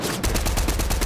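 Gunfire from a sniper rifle in a Fortnite No Builds match: sharp repeated cracks across a dense, loud battle soundscape, close and steady with no talk over it.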